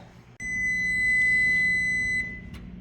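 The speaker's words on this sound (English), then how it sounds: "if I can get my timer to stop, it's beeped." A kitchen timer beeps with a steady, high electronic tone that holds for about two seconds and then stops, followed by a brief click. It sounds close and fairly loud over a low kitchen hum.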